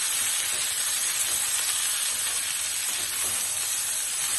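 Sliced onions sauté in a hot pan for a mint masala dosa filling, giving a dense, continuous sizzle that stays loud and even throughout, with no voices.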